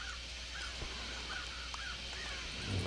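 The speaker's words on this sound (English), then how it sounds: "I made a noise and now the birds are all freaking out" Birds squawking and cawing in the stealth game Thief, several repeated harsh calls spread across the clip over a steady ambient hum, fairly faint with no talking.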